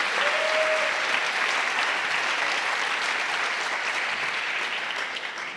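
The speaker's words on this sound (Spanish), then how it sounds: "un aplauso para ustedes" Sustained audience applause from a church congregation, dense and even, holding at full strength and only slightly thinning toward the end.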